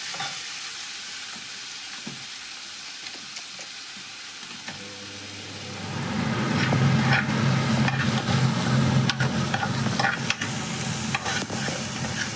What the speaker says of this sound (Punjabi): ਸ਼ਿਮਲਾ ਮਿਰਚਾਂ ਨੂੰ ਤੇ ਆਹ ਸਾਰੇ ਮਸਾਲੇ ਨੂੰ ਆਪਾਂ ਇੱਕ ਵਾਰੀ ਭੁੰਨ ਲਾਂਗੇ ਥੋੜਾ ਜਿਹਾ